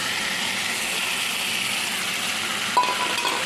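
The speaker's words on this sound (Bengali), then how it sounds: "ভেজে রাখা বেগুনগুলো এবার দিয়ে দিলাম" Fried eggplant pieces are tipped into a spice masala in a pan. A loud, even sizzling hiss runs throughout, broken by one metallic clink near the end.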